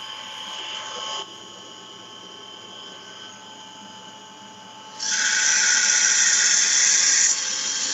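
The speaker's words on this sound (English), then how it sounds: "That was the beans going into the roasting drum." Coffee beans dropping into the roasting drum of a coffee roaster, a bright hissing rush that starts abruptly partway through over a steady machine hum, loud and close, then cuts back down near the end.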